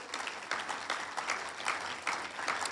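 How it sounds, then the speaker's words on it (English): An audience at a health professions symposium applauds in a fairly steady wash of clapping with slightly rhythmic swells, moderately loud and without speech. "Give them a round of applause for that."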